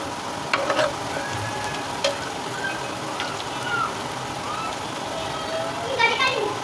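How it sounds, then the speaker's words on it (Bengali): Oil sizzles steadily in a home kitchen pan while something is fried until reddish, with scattered stirring clinks and short crackles running under it throughout. "আগে এটা একটু লাল লাল করে ভাজি করে নিই"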